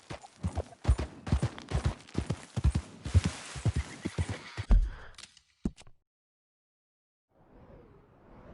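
In the Red Dead video game, horse hooves clip-clop in a quick, rhythmic series of loud, close thuds for several seconds, then stop abruptly, leaving near silence and a faint soft noise.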